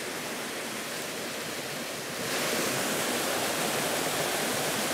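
Steady roar of a waterfall in the Brecon Beacons, Wales, broadband rushing water filling the whole clip, growing slightly louder partway through, with no voices.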